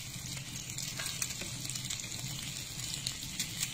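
Tofu fries in a pan with a constant soft sizzle and scattered crackling pops, steady and moderately quiet, with no voices over it.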